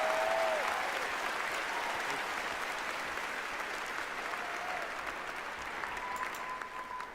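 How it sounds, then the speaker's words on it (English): Sustained audience applause at an awards show, a dense, steady wash of clapping that fades slightly toward the end, with a few faint voices underneath. "let's give a big round of applause to these two guys for the Great Circle"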